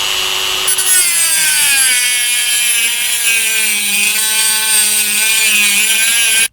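A Dremel rotary cutting tool slits a metal reflector for a 5.8 GHz double biquad antenna, giving a steady, loud, high-pitched grinding whine that holds for several seconds before cutting off abruptly.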